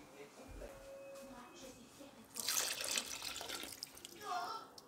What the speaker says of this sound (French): je reprends ma boîte de tomates, je vais la remplir d'eau, 20 centilitres